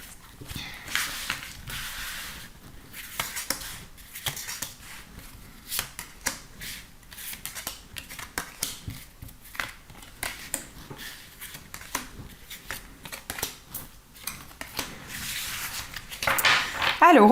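Tarot cards being shuffled and drawn by hand, a long run of quick, crisp riffles and slaps in uneven bursts, close and clear, with brief pauses between handfuls.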